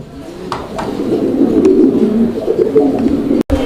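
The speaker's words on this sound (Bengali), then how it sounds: "এখানে চমৎকার আরও একজোড়া কবুতরের কালেকশন রয়েছে" Pet pigeons cooing in a fancier's loft, with a steady, throaty murmur of overlapping coos close by and a few soft clicks, no voices over it.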